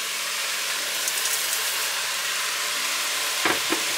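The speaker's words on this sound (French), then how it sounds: "On va bien mélanger tout ça." Lentils and vegetable broth stirred together in a cooking pot over sautéed vegetables, a steady sizzling hiss with a couple of louder scraping stirs near the end, no voices.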